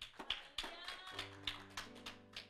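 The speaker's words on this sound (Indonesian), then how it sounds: "Tepuk tangan untuk Tuhan kita." Church congregation clapping hands in worship, sparse sharp claps scattered over a few seconds with a sustained musical tone underneath, moderately faint.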